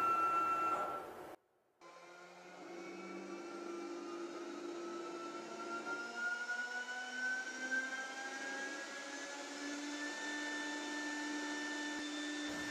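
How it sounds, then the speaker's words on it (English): A CNC router cuts a hollow newel. After a short burst and a brief silence, the spindle settles into a sustained tonal whine that slowly climbs in pitch, steady and fairly quiet. "The machine will automatically plunge down and touch off the Smart Tool to set the Z axis and then start cutting."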